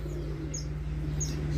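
Murai batu birds in an aviary give a few faint, high chirps over a steady low hum, with no other sounds.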